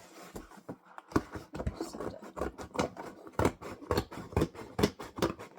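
Small kid-sized scissors snip fabric in a quick series of close, crisp cuts, with brief pauses between bursts and no talking.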